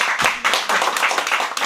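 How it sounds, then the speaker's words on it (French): A live show audience breaks into quick, close applause, a dense burst of rapid hand claps with slight surges in loudness across the brief stretch. "on peut l'applaudir"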